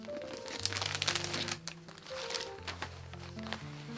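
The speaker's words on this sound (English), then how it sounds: "We're going to use this tissue paper." Tissue paper crinkling and rustling as it is handled for a Christmas craft, with irregular crisp bursts close by and brief quieter gaps.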